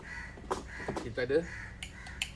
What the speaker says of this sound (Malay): Bising kan gagak.